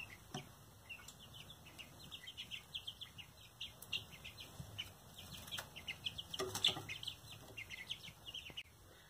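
Young, partly feathered chicks in a brooder peep and cluck continuously in rapid, high chirps, fairly close, with a few louder clicks and no talk.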